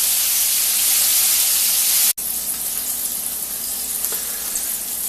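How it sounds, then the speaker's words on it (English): Steady, loud sizzling of chicken breast halves and a pork chop deep frying in hot oil, a dense hiss that briefly cuts out and then continues a little quieter. "about 11 minutes total in boiling oil should be about enough"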